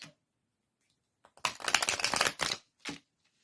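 A Romance Angels card deck is riffle-shuffled close by: a dense burst of rapid flicking for about a second, then one shorter riffle, with quiet pauses around them.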